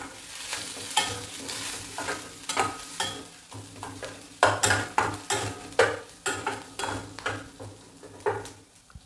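Spiced masala with turmeric and cumin powder being stirred in a hot pan for Mumbai-style vada pav, a spoon scraping in steady repeated strokes over a continuous low sizzle of frying.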